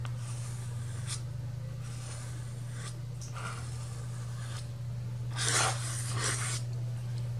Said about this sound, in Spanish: en donde estoy marcando el gis encima de lo húmedo no se marca bien